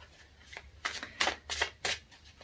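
Playing cards shuffled by hand for a card reading, several crisp riffling bursts close up, fairly quiet, with no talk over them.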